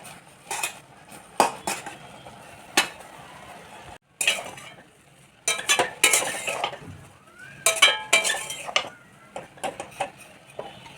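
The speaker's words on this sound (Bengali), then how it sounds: "আমি ভেজে রাখা ল্যাচ্ছাটা দিয়ে দেব। তো অল্প অল্প করে দিয়ে এটা নাড়তে থাকবো।" A spoon clinks and scrapes against a pot as fried lachha vermicelli is stirred into boiled milk, with irregular bursts of metallic taps and pauses and no voices.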